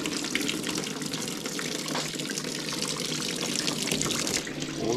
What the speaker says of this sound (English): As soon as I'm loosening it up, it's starting to leak out.